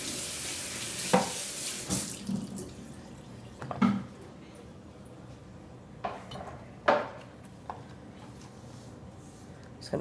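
Vegetable stalks for a ham and vegetable soup are rinsed under a kitchen tap, a soft steady water hiss broken by a few clinks and knocks against the sink, close by with no talk.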